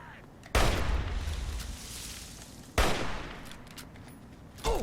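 A grenade going off in Fallout 3 gameplay, heard as sudden loud blasts with rumbling decaying tails, one near the start, another midway and a third at the very end.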